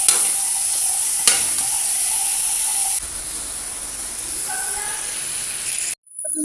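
Pork spare ribs browning in a hot pan, an even, bright hiss of searing fat heard close up, with a sharp tap near the start and a brief break near the end.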